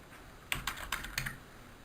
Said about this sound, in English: we would click and then keyboard our comment